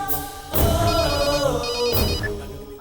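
A telephone rings with a bright electronic trill in two bursts, loud and close, over a dense musical background score, with no speech.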